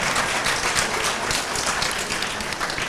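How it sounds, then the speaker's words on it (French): An audience applauds a young contestant at a spelling championship, a dense, steady wash of clapping filling the whole stretch at an even level with no voices over it. "Ça s'applaudit plus fort."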